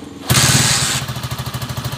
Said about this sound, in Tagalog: Singaw yung tambucho kasi sira yung elbow ng tambucho mga bro.